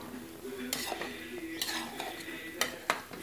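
Rain cake balls (bolinho de chuva) frying in a pan get stirred with a utensil, giving several sharp clinks and scrapes against the pan over a soft, faint sizzle of oil.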